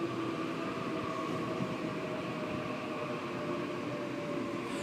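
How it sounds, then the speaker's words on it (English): A Sydney Trains Waratah electric train, set A78, passes with a continuous rumbling roar and a steady electric whine throughout, loud and close, with no talking. "A78 is the newest Waratah in service."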